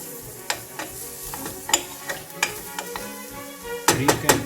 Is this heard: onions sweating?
yes